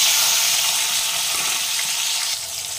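Chopped tomatoes frying in hot oil in a kadhai, giving a loud steady hiss and crackle that softens slightly near the end, with no talk.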